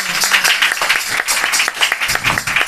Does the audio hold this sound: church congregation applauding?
yes